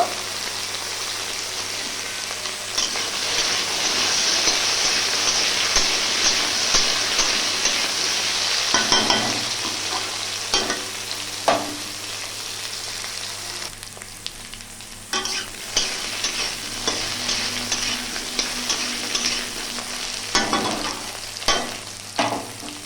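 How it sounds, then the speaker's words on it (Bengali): Cut taro and potato fry in oil tempered with five-spice, dried red chillies and bay leaves, a loud continuous sizzle like rain, with spatula scrapes and stirs growing more frequent later. "এরপর দিয়ে দিলাম কেটে রাখা কচু আলু, ভালো করে ভেজে নেব"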